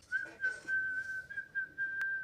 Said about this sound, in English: You have to whistle for it.